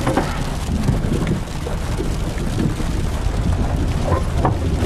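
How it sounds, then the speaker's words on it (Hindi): Heavy rain pours down steadily near Rohtang Pass in the mountains, a dense, close hiss of falling drops that stays loud and unbroken throughout. "बादलों के नीचे आके तो बारिश बढ़ रही है"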